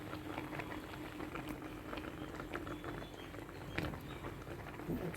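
Grapes boil in water on a stove to make juice, producing a continuous soft bubbling and popping at low level with no voices.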